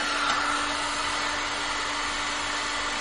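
A hair-dryer-style heat gun blows a steady, loud whooshing hum as it warms a golf club head to break the epoxy during re-shafting, with a constant tone and no voices.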